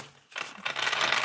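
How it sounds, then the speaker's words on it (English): A tarot card deck is shuffled close by: a brief, soft papery riffle that starts after a quiet moment and carries on to the end. "Hold on, let me shuffle."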